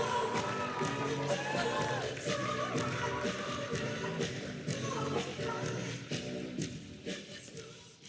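A crowd at a Howard University rally in Washington, D.C. on election night, a broad sustained murmur and cheering roar from a large gathering, steady and somewhat distant throughout.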